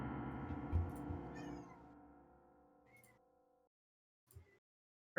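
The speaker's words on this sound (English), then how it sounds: "That's my cat." A pet cat meows at length, a drawn-out, wavering call that fades away, followed by a couple of faint short sounds, close to the microphone with no talking.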